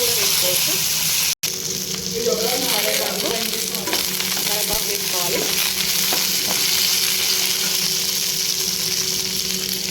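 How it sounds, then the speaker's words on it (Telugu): Lentils and green chillies sizzle and crackle in hot oil in a pan as an instant dosa batter is being prepared, with a steady frying hiss and a few stirring clatters, up close and loud throughout. "పప్పులు మంచిగా వేగుతున్నాయి కదా ఆల్రెడీ పచ్చిమిర్చి వేసి వేయించుకోవాలి"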